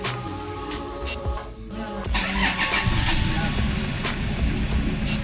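A Toyota Fortuner engine cranks briefly, catches, and settles into a loud, steady idle up close inside a workshop setting.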